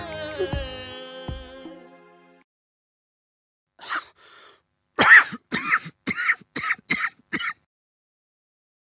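Harsh, close coughing comes in a burst of about six rapid hacks after a throat-clearing rasp, preceded by a short sung voice and a silent pause.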